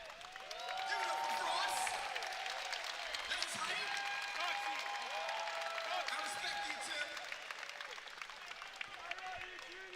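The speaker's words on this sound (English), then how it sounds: "A round of applause, giving us some Frost play" An esports audience at the CEO 2019 Mortal Kombat 11 Top 8 finals applauds with a steady wash of clapping that swells early and carries on throughout, with a little cheering mixed in.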